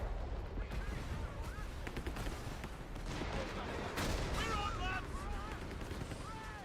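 Machine gun fire in the Company of Heroes video game, rapid bursts of gunfire crackling over distant artillery rumble in a busy battle soundscape.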